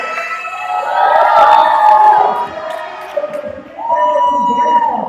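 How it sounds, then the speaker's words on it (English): A cocktail competition crowd at a Miami local final cheering and whooping, loud and close, swelling for about two seconds, dipping, then rising again, with voices shouting over it. "And a big round of applause for our friends from Fair Trade USA."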